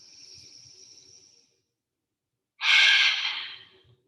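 Deep breathing during a yoga exercise: a soft, drawn-out exhale that fades away, a pause of quiet, then a louder, fuller breath close to the listener. Nobody speaks.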